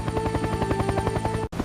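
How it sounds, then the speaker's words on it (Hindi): A cartoon rescue helicopter arrives with a loud, steady rhythmic rotor chop and a sustained engine whine, cutting off abruptly near the end. "व्हाइट रेस्क्यू हेलीकॉप्टर आ गया।"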